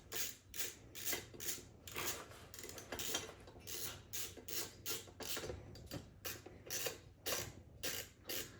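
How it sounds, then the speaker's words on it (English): A ratchet wrench clicking rapidly and steadily while tightening during a crash cage install on a ZX6R motorcycle, a close, continuous train of fine metallic ticks in short bursts. "Always good to make sure your wrench is going in the right direction."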